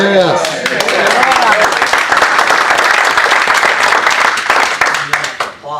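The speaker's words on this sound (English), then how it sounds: "Again, applause" Audience applause at a congressman's town hall meeting in Licking County, loud dense clapping from a crowd heard alongside a speaking voice at the start, fading toward the end.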